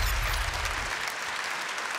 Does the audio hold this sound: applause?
yes